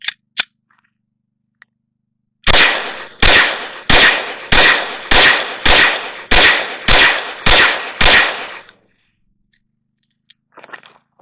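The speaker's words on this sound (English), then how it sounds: "I'm going to put these first rounds downrange" Shots from a Glock 17 Gen 3 pistol fitted with a .22 long rifle adapter: two quick shots, then a steady string of nine sharp, evenly spaced cracks, loud and close, with faint sounds after.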